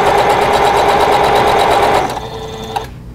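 A sewing machine runs steadily and close, stitching quilt block fabric pieces in a fast continuous whir before stopping near the end.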